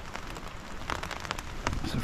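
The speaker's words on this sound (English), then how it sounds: "It's raining again. Listen." Steady rain patters on a hard surface while wild camping in the Northumberland hills, with a few louder drips standing out in the continuous hiss.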